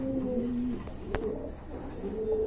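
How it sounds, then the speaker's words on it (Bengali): A pair of pigeons coo softly and low, a steady murmuring call close by with a brief click partway through, no voices. "খুবই সুন্দর একটা কবুতরের পেয়ার।"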